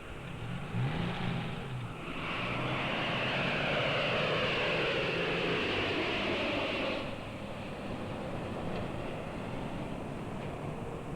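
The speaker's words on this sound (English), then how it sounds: "This jetliner is going to the airport." A jetliner flies toward a busy airport, its broad jet roar swelling over several seconds then easing into a steady, moderately loud rumble with no voices.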